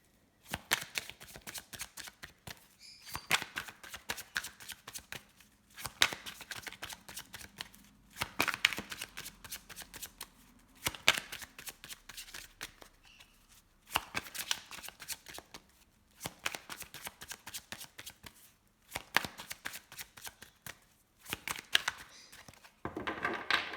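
Tarot cards being shuffled in repeated riffling bursts of quick papery flicks, each run lasting a few seconds with short pauses between, close and clear with no talking.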